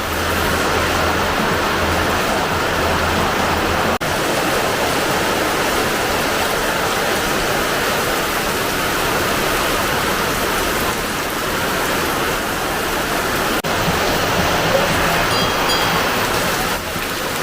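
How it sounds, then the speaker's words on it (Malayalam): Heavy rain pours down in a dense, continuous hiss, steady and loud throughout with no voices. "അങ്ങനെ ഇന്നും കിടിലൻ മഴ തുടങ്ങിയിരിക്കുകയാണ്"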